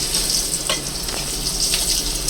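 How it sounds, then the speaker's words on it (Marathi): Potatoes frying in a pan for veg Kolhapuri, a steady close crackling sizzle with a few sharper pops throughout, no voices. "त्याच्यामध्ये बटाटे टाकतो याचा ते पण अशी ब्राऊन होईपर्यंत आपल्या फ्राय करून घ्यायचे"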